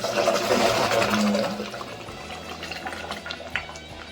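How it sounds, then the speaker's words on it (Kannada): Water is poured into a pressure cooker of capsicum rice in a steady splashing stream for about a second and a half, then fades to quiet kitchen clatter. "ನೀರು ಹಾಕೊಳ್ಳಿ"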